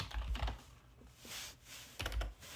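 A command is typed on a computer keyboard during a penetration-testing session: quick clusters of close, crisp key clacks with a brief pause in the middle, alone with no talk.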